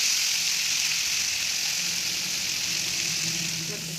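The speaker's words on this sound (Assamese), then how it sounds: "এতিয়া মই মছলাৰ পৰা তেলটো ওলোৱালৈকে অকণমান ভাজি লৈছোঁ।" A constant bright sizzle of spice masala frying in oil, close and steady, with faint low rumbles underneath.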